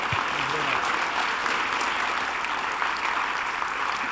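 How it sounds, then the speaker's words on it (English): Audience applause for panelists at the close of a legislative leaders forum, loud sustained clapping from a sizable crowd with a faint voice underneath. "So I want to give a big round of applause to our panelists."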